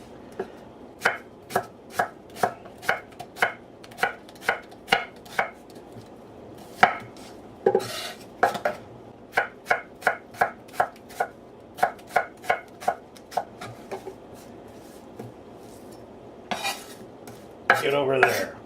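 A knife chops through cabbage and a small onion on a board in a steady run of sharp, close thuds. There is a brief pause, a short scrape partway through, and a rougher rustle of gathering at the end.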